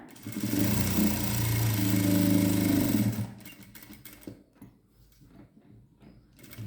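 A sewing machine runs steadily for about three seconds while stitching a folded blouse seam, a loud close mechanical whir that then stops, leaving faint handling clicks and rustles of fabric.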